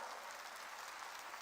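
Congregation in a church clapping together in sustained, dense applause, a steady wash of many hands at moderate distance with no voices over it.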